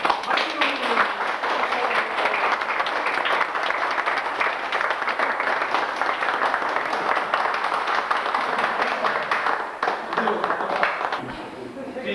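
Sustained applause from a large audience at a 1994 inter-Korean human-chain cultural performance in Daejeon, steady dense clapping filling the whole stretch with crowd noise, tapering slightly at the end.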